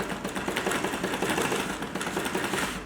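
A sewing machine stitching upholstery at reduced speed, a steady rapid mechanical chatter of needle strokes, close up and continuous for a few seconds.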